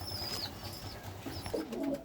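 A pair of pet pigeons, including an old-breed Baga, coo softly nearby in low repeated murmurs, with faint chirps and light rustling around them.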